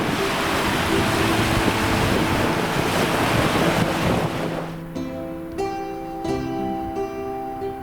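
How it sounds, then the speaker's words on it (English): Strong wind roars and buffets the microphone at a beach on a Scottish loch near Glenmore for about four seconds, then fades as soft, sustained music tones take over. "It is windy, so do forgive me."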